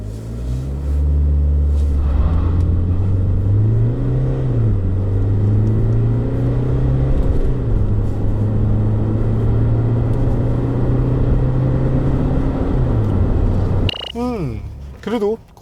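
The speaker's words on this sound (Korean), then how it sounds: "여기서 잠시 렉스턴 스포츠의 가속 성능에 대해서 알아볼까요?" 2018 SsangYong Rexton Sports pickup accelerating hard from inside the cabin, engine rumble rising through several gear shifts with a steady drone, someone talking over it.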